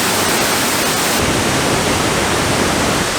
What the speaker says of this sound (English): the Misol Ha Waterfall. It is a 40-meter water drop basically